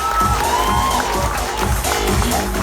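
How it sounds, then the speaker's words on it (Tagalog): Crowd at a motivational gathering cheering and clapping loudly and continuously, with shouts and whoops rising over a steady wash of applause throughout. "O palakpak dito yung mga leaders ko."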